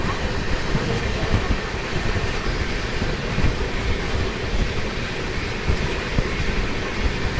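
An Ajmer Jan Shatabdi Express train runs on the main line alongside a freight train on a dedicated freight corridor, giving a steady, loud rumble of wheels and rushing wind throughout with no pauses.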